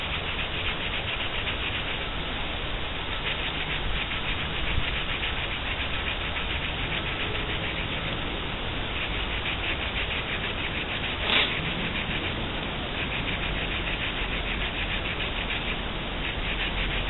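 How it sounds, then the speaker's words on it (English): A survival chain bow saw cuts into wood with a continuous gritty rasping that keeps an even back-and-forth texture throughout, close and steady, with a brief sharp click partway through and no speech. "We're going to keep on sawing."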